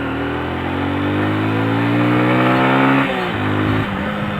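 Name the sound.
motorcycle engine revving after downshifting to second gear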